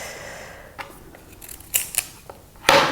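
A knife cuts a raw beetroot on a board, making a few sharp, close crunching and slicing snaps spread irregularly over a quiet background.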